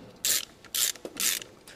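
A ratchet wrench clicks through three quick, close bursts of turns while a car alternator is being disconnected, with no talking.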